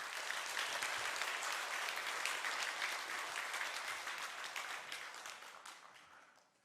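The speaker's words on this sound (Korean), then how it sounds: "박수로 환영하겠습니다." Warm applause from a church congregation welcoming a missionary at a Sunday service, a dense, steady clapping that slowly fades away at the end.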